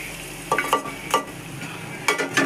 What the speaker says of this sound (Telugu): ఇప్పుడు దీన్ని ఇందులో వేసి కలుపుకుందాం.